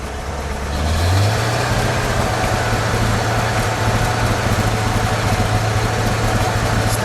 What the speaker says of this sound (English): Robert, give it a rev